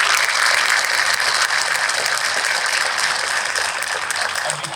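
Sustained audience applause at an elementary school ribbon cutting, a dense, steady wash of many hands clapping that holds loud throughout and tapers only slightly at the end.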